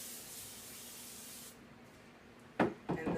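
A can of cooking spray sprays a steady hiss onto a clear glass baking pan for about a second and a half, followed by a couple of soft knocks and rubbing sounds close by.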